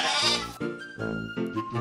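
A sheep bleats loudly and close by, a wavering, nasal call broken into a few pulses across a couple of seconds, with no other sounds around it.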